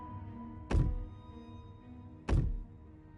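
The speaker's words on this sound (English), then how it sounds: "Movement on the stairs. Thump, thump," Heavy footsteps on stairs in the video game Slay the Princess land as two separate deep thumps, well spaced and close, against a quiet droning background.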